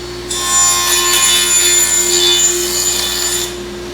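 A power saw cutting through the back of a wooden workpiece in a shop, a loud close whine and rasp held for about three seconds, rising in at the start and dropping away at the end, with no voices.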